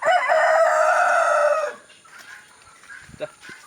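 A rooster crows loudly and close by for over a second, followed by quieter clucks and soft rustling.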